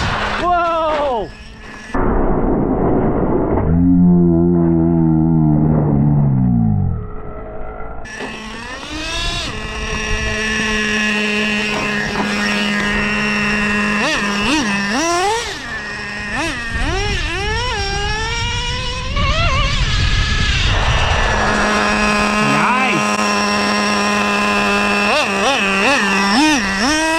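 A Traxxas Slayer Pro 4x4 nitro RC truck drives hard, its small engine screaming and rising through the revs as the 2-speed gearbox shifts up. The sound is loud and close, with repeated throttle surges and a speaker talking over it.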